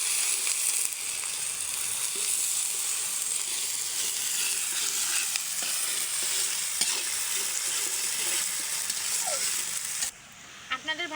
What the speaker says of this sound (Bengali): এখন যে পেঁয়াজটা প্রায় ভাজার দিকে শেষ, আর একটু ভেজে নেব